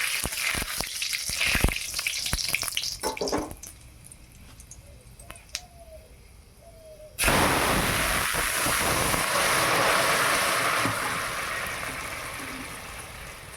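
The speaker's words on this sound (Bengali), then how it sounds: "আর দেবো 5 ফোড়ন।" Five-spice tempering dropped into hot oil for a sour village dish, bursting into a loud, continuous close sizzle after a stretch of quieter clatter and scraping.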